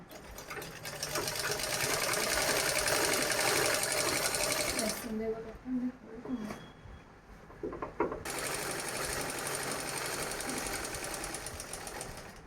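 A sewing machine stitches fabric in fast, loud, continuous runs, stopping for a few seconds midway while a person talks, then starting again at full speed.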